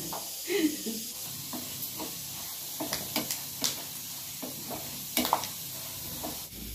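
Chana dal added to hot tempering oil gives a soft, continuous sizzle under faint clatter of stirring, with scattered sharp pops and taps throughout.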